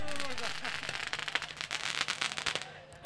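Firecrackers crackle in rapid irregular bursts at a cricket final celebration, sharp pops clustering and thinning over a few seconds, fairly close and loud with crowd noise underneath.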